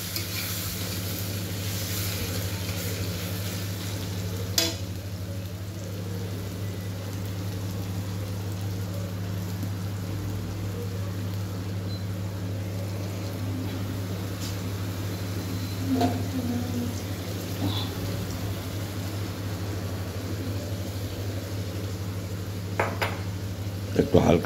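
Salted tomatoes fry in a pan after a light splash of water. They are stirred with a utensil under a low, steady sizzle, with scattered scrapes and clinks and a sharper knock near the end.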